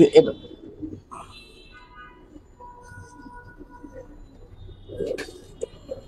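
Soft pigeon coos rise and fall in a loft over a quiet background, with a few sharper sounds at the start and near the end.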